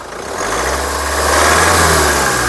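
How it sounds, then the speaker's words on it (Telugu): A Mahindra XUV500 W6 (2015) diesel SUV engine close by, running steadily with a low rumbling idle that rises slightly in level, no voices. "సింగిల్ సెల్ఫ్లో కార్ స్టార్ట్ అవుతుంది"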